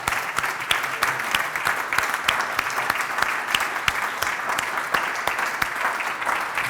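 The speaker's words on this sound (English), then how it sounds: "a round of applause," Audience applause fills a lecture hall after an architecture talk on human scale, a steady, dense clapping from a sizeable crowd that holds evenly throughout without talk.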